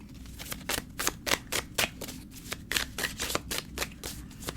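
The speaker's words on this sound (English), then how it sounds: "I'm going to shuffle and see if any of the cards pop out" Tarot cards shuffled by hand in a quick run of crisp riffling bursts, close and fairly loud, with no talking.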